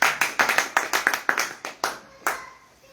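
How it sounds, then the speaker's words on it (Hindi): Applause at a poetry gathering in Bisalpur: about a dozen crisp, distinct claps in a steady rhythm that slows and thins out, close and fairly loud, fading to quiet at the end. "एक बार भरपूर तालियों से आपका स्वागत करें सभी लोग"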